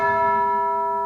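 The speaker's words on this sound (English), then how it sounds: "Your tubular bells," Tubular bells from an orchestral sample library strike once and ring out, a bright, clear metallic tone with steady overtones sustaining and slowly fading, loud and alone.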